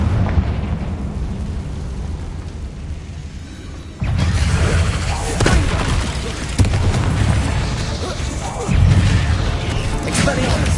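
Confringo fire spell blasts in the video game Hogwarts Legacy: several loud, booming impacts cut in abruptly over a steady rumble, with bursts of crackle and debris, while a voice calls out.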